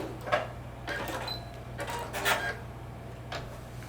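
A sewing machine back stitching a skirt seam runs in short, separate bursts of mechanical whirring over a steady low hum, with brief pauses between each run.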